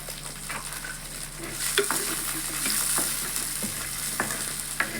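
Roasted green chillies and garlic cloves frying in oil, a continuous close sizzle broken by occasional scraping stirs and light clicks of a utensil, with no voices.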